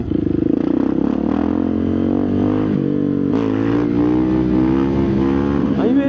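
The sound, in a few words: supermoto motorcycle engine revving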